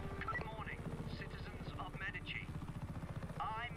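A helicopter in Just Cause 3 gives a low, throbbing rotor chop that runs through the whole stretch, while a player talks excitedly over it.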